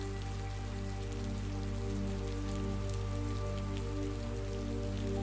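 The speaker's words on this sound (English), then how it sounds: "watching the rain fall outside" Steady rain falls outside a cabin in the woods, a constant dense patter of drops on surfaces with a low, even rumble, alone and unbroken throughout.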